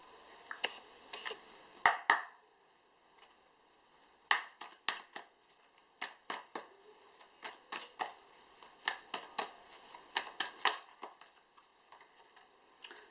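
Moonology oracle cards being shuffled and drawn, a quiet close series of crisp riffling snaps and slaps in irregular bursts, with no talk.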